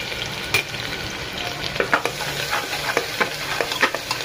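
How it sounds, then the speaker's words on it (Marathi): Garlic frying in a pan with curry leaves, a steady close sizzle broken by repeated scraping knocks as it is stirred, no voices. "कढीपत्ता टाकल्यावरती आपण टाकूया लसूण आणि लसूणला चांगला भाजून घ्या."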